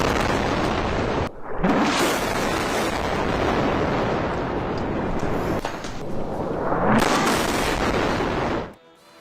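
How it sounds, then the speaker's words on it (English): Heavy explosions from aerial strikes on Gaza at night, loud and sustained with deep rumbling booms that swell and roll, a couple of distinct blasts standing out before the sound cuts off abruptly. "Here are some visuals of the night sky that have been lit up by flares and explosions."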